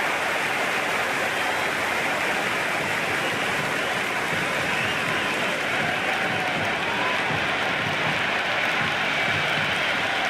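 A cricket crowd at an India versus England T20 match roars and cheers a boundary four, a dense, steady wash of massed voices and applause that stays loud and unbroken throughout.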